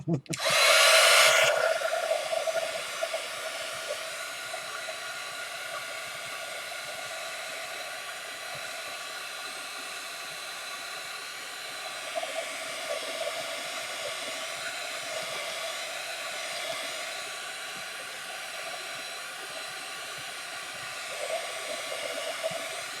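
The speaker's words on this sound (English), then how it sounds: "So we're going to dry this real quick." Hair dryer blowing on a mixed media craft piece, a loud, continuous rushing whoosh that starts abruptly and holds steady for over twenty seconds with slight shifts in pitch.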